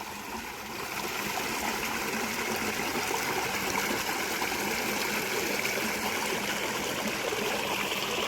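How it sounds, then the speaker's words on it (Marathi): A stream rushes steadily nearby, a loud, continuous wash of flowing water with no pauses and no voices. "पाण्याचा आवाजसुद्धा भरपूर येतो इथं कारण की पाऊसच त्या प्रमाणात झालेला आहे"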